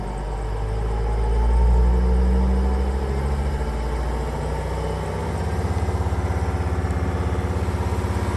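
Mercedes T1N Sprinter diesel van engine running at raised high idle, a steady low rumble holding even throughout with a slight swell partway through, close and continuous with no talk.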